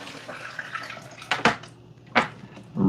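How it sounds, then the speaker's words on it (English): Water pours into a reservoir with a continuous splashing trickle, broken by a few louder sloshing bursts close by, with no talking. "I'm going to fill up a little more water in the"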